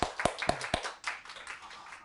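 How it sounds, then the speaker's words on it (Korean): An audience at a Korean university-transfer admissions seminar claps: three sharp, evenly spaced claps up front, then softer, scattered clapping that trails off. "자, 여러분 박수."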